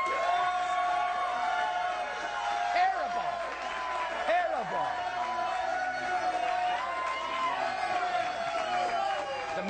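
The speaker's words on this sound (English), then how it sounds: "Most applause ever in this studio." A late-night talk-show studio audience roars with sustained cheering, whoops and clapping at close range, holding loud and dense for the full stretch with voices shouting through the din.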